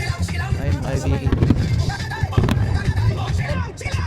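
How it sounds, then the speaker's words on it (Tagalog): Fireworks bursting at a pyromusical show, a dense run of booms and pops blending into a steady roar, with crowd murmur and people talking nearby throughout. "Fireworks."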